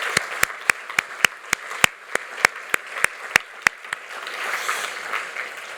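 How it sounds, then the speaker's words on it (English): At a consumer protection day event, a loud, slow rhythmic clapping stands out over softer crowd applause, with about a dozen sharp claps in a steady beat before the sound turns into a diffuse murmur. "a big round of applause to them for this"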